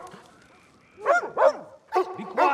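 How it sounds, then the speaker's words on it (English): Cartoon dog barking in four loud, close yips and barks, spaced in two pairs after a quiet start, with no talk over them. "Dodge, what are you barking at?"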